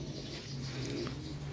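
Soft, low cooing of pigeons over a steady background hum, brief and moderately faint.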